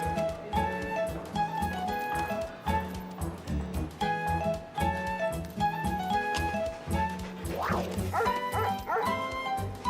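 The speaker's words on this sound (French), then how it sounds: "qu'est-ce qu'il fait ici, ce chien?" A cartoon fire station dog yips and barks in short bursts over a busy musical score, its calls rising above the music now and then.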